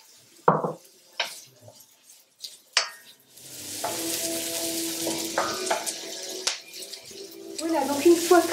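Onions sautéing lightly in sesame oil, opening with a few sharp pan clinks and utensil knocks before a steady sizzle builds and continues with occasional stirring taps.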